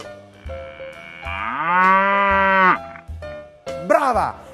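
A man imitates a dying cow with drawn-out, wavering moos that swell, bend downward and sag, followed by a shorter strained moo, loud and close with no other sound.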